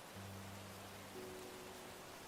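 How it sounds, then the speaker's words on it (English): Steady rain pouring in the game Path to Nowhere, a soft, even hiss of falling water with a faint low hum underneath, ending with a brief sharp tick. "As the rain pours heavier, it slowly drowns out the daylight."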